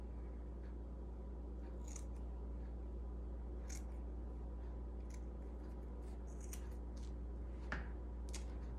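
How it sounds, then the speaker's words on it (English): Scissors cutting fabric from the back side while making a Christmas gnome, faint intermittent snips and crisp rustles over a low steady hum. "I'm going to cut this from the back and"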